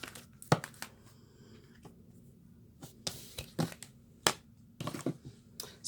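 Tarot cards being shuffled by hand produce quiet, close riffles and snapping flicks in irregular bursts with pauses between them, faint and without talk.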